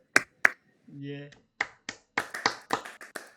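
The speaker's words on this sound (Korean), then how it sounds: "박수요." A handful of sharp, separate claps from a small group at a Won Buddhist service held in a metaverse setting; a short spoken reply comes in between the first claps and a later ragged cluster.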